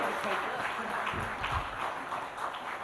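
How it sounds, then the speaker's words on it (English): Conference audience applause, a steady wash of clapping held at an even level throughout, faint and somewhat distant. "a huge round of applause for Mr."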